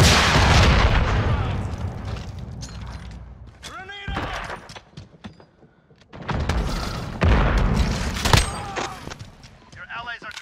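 Bazooka fire in a Call of Duty Modern Warfare 2v2 match: loud booming launches and blasts amid gunfire, with a brief lull midway before the heavy firing resumes, all under in-game noise.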